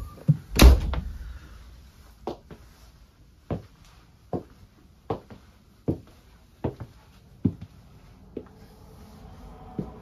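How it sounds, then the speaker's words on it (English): An RV door is shut inside a 2022 Renegade Valencia 38RW motorhome: one loud, close slam near the start, then a string of softer knocks and thunks at irregular intervals. "Let's shut this door"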